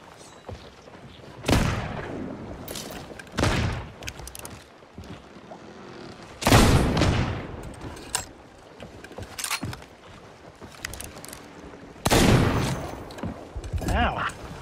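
Cannon fire during a ship battle in the video game Sea of Thieves, several loud heavy booms spaced a few seconds apart over sloshing water, with voices talking between blasts.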